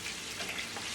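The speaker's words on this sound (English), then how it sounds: "we're going to give these a stir now" Pork chops and potatoes frying together in a pan as they are stirred, a dense close sizzling hiss with no talk.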